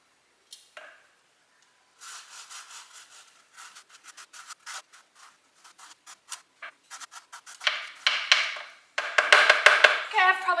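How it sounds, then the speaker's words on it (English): A lemon rubbed over a grater to zest it, a series of close, dry rasping scrapes in short bursts that grow quicker and louder toward the end. "make sure you zest it before you cut it and squeeze it"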